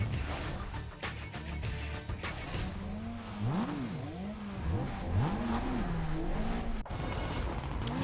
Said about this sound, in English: First of all, just listen to that engine sound.